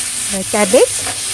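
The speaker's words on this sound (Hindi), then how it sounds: "कैबेज को थोड़ी देर भूनेंगे।" Cabbage and onions frying in a pan give off a steady, hissing sizzle throughout, while a voice sounds briefly over it.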